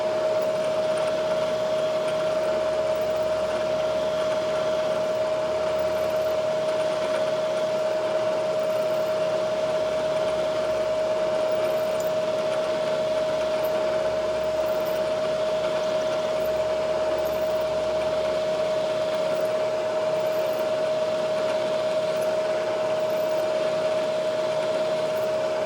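A machine drills a hole deeper with a continuous steady whine and a sharp constant tone over a broadband hiss, running unbroken and close throughout with no talking.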